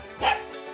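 A dog gives a single loud, close bark indoors at home, a short sharp yelp with a quick tail-off and no talk over it.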